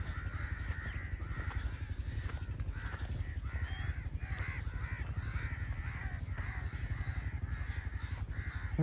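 Crows caw steadily and repeatedly outdoors, fairly distant and low in level, their harsh calls overlapping in a continuous chorus with no talking.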